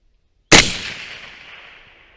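Single sharp report from a suppressed AR-15 short-barreled rifle fired toward distant steel plates at a long-range outdoor setting, a loud abrupt crack after silence with a long fading tail.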